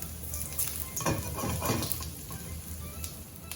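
About five ginger slices hitting the hot oil left over from frying fish in the same pan, giving a steady close hiss and crackle with some stirring scrapes throughout, moderately loud and with no talk.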